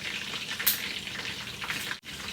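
Oil sizzles and spits steadily in a regular frying pan as a pork chop fries, a soft, close crackle with a few brighter pops.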